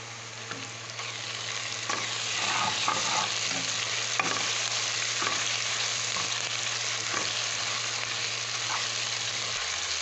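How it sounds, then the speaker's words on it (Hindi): Onions sizzle steadily in hot oil, with occasional stirring scrapes and a constant crackling hiss throughout. "अब उसी ऑयल में हम प्याज को फ्राई कर रहे हैं।"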